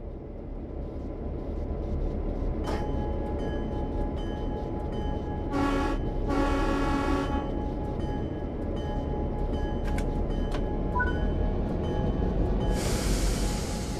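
A Santa Fe F-7 diesel locomotive in Train Sim World 3 throttles up, a steady low engine rumble with hiss, clanks and brief higher bursts, ending in a rising hiss.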